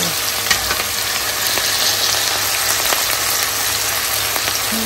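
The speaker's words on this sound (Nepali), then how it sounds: "अब म यहाँ प्याज हाल्छु सुक्को लागि" Chopped onion sizzles steadily in a hot pan for a Nepali spicy pork dish, a dense even frying hiss dotted with small crackles and pops, close up with no talking.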